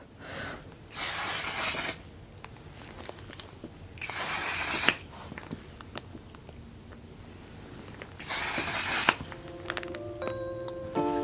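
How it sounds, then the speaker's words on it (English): Face setting spray misted from a bottle in three separate bursts, each a sharp hissing spray lasting about a second, with quiet pauses between them, close by in a home makeup session. "Hold your breath when you spray this stuff."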